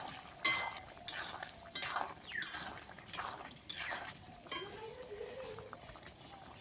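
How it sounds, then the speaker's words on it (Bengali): Cauliflower curry with ghee being stirred in a pan, a spoon scraping and clinking against the metal in regular strokes roughly every half second to second, close and moderately loud, with no talk. "এক চামচ ঘি দেবো একটু নাড়িয়ে নেবো"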